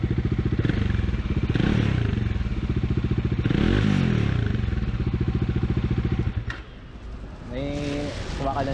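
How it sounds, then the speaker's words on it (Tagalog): A Bajaj Dominar 400 motorcycle engine idling and revving at about 15,000 km, with a rattling sound in it: a close, loud, pulsing throb that swells and dips, then drops to a lower idle near the end as voices come in. "may narinig daw siyang parang kumakalansing dun sa takbo ng makina"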